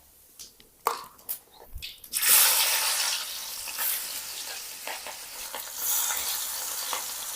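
Whole spices tempered in hot oil for a spicy masala pulao: a few soft clicks give way to a sudden loud sizzle, which then settles into a steady, close frying hiss with stirring and crackles, without any talk.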